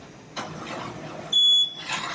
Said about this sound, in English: there's my timer. I'm turning it off.